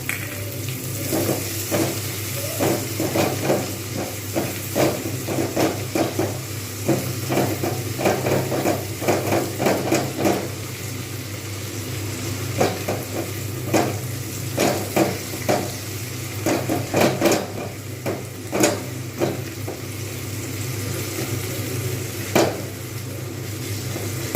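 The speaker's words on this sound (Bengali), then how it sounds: "এই খুন্তির সাহায্যে কিন্তু স্ম্যাশ করে নেব টমেটোগুলো" Tomatoes mashed with a metal spatula in a sizzling pan for a spicy katla fish curry, with steady frying hiss and repeated rhythmic scraping and tapping of the spatula against the pan, close up.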